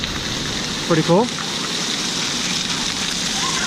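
A dump bucket at Volcano Bay water park pours down in a continuous roaring rush of water. Someone speaks briefly over the steady splash.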